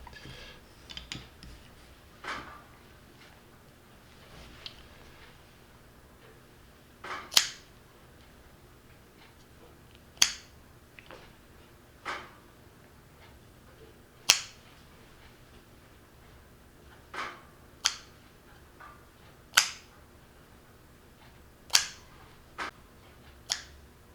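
Strand pairs of 8 mm Ocean Polyester hitch cord being snipped off flush where they exit the rope, giving a series of sharp, close, isolated clicks spaced a second or two apart in an otherwise quiet room.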